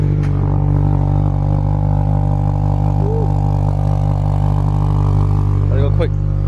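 A Mitsubishi Lancer GTS idles loud while warming up, giving a deep, steady, droning engine rumble close by that stays level throughout, with a few faint voices over it.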